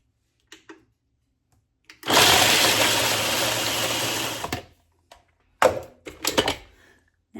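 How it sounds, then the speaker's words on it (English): A food processor purees chocolate sandwich cookies in one loud whirring burst of about two seconds, with clunks and rattles of the lid and bowl before and after it. "I have chocolate sandwich cookies, aka Oreos, in a food processor"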